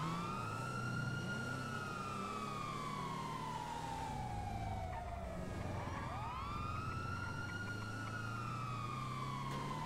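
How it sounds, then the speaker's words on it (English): Police sirens wail in the FreeRP roleplay video game, a loud, continuous rising and falling tone close by that keeps sweeping up and down for several seconds with no talking over it. "I hear the sirens"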